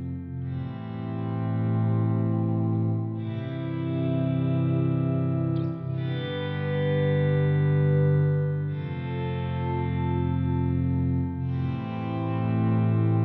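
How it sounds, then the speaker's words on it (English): Layered electric guitar harmonies panned hard left and right blend into a sustained pad, long held chords with effects and slight distortion, shifting every few seconds, smooth and continuous with no talking. "It's like the coolest guitar pad sound."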